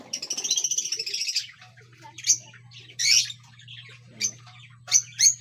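Small pet birds chirp inside a mini aviary, a rapid trilling chatter at first, then a string of separate sharp tweets while a low steady hum runs underneath.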